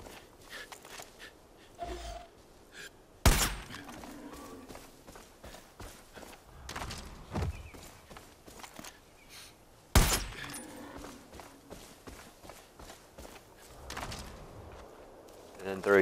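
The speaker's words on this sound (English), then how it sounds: "Shoot them in the head with the sniper." Sniper rifle shots fired at bison in the video game Far Cry 5, two sharp loud cracks several seconds apart standing out over faint in-game ambience, footsteps and movement noise.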